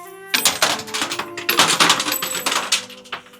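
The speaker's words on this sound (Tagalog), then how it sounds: "maghulog tayo ng coins and then make a wish" Coins drop as an offering for a wish in the mountains of Karasawa, Japan, clattering and jingling loudly in a busy metallic cascade for a few seconds, up close.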